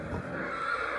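Horses whinny in a stable, with a steady, fairly faint background wash and no distinct bursts or talk.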